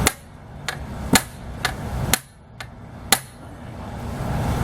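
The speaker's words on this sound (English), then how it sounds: "Love those impact drivers, they're awesome." An impact driver unscrews a screw while work is done on a 1935 Austin 7, giving several sharp, loud hammering bursts spaced irregularly about half a second to a second apart, close by over a steady background.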